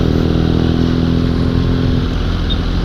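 Motorcycle riding through Bogor in the morning: a loud, steady engine drone close by, with rushing wind and slight rattling, continuous and without pauses.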